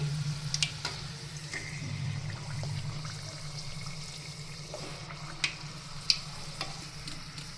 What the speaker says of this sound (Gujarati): પછી આપણે તેને તેલમાં કાઢી અને એકદમ ક્રિસ્પી કરી લેશું બંને સાઈડથી